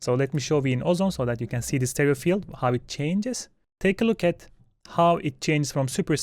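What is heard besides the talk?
None of the usual background noises is heard.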